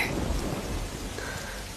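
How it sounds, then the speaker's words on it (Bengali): Rain falling steadily as a soft, continuous hiss with low rumbling underneath, fairly faint and unbroken. "দেখো বৃষ্টি এসেছে"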